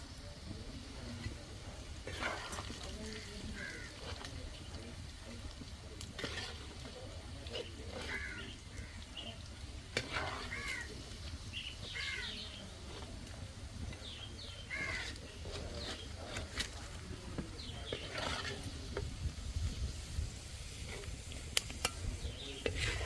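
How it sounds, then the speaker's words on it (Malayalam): River clam meat sizzles in hot oil for a pickle while a utensil stirs and scrapes through it, giving soft crackling with intermittent scraping strokes. Faint outdoor bird or insect sounds are heard in the background. "വറുത്തിട്ടതും വറുത്ത് കഴിഞ്ഞു അത് കോരി മാറ്റുവാണ്"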